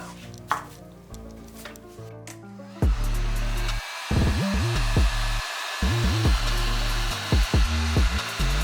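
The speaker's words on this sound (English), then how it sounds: "we got a lot of the air out just by using the heat gun" A heat gun blows over an epoxy sample board with a loud, steady whooshing roar, broken by a few short pauses and interruptions in the airflow.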